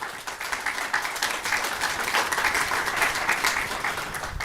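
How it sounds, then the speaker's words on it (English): Audience applause welcoming panelists at a Korean War family separation event, steady dense clapping from a crowd lasting throughout, moderately loud with no talking. "So let's all just give them an initial warm welcome and applause"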